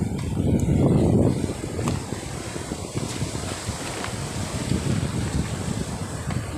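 Strong wind buffets the microphone as big waves roll in and break against the shore rocks, a continuous rushing wash with a louder gust at the start.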